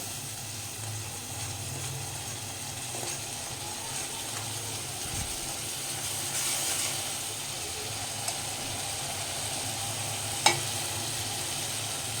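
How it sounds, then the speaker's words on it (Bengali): Masala spice paste frying in a pan with a little water, a low continuous sizzle and bubbling, one sharp clink near the end, steady and close. "মশলাটা ভালো করে ফ্রাই করে নেব"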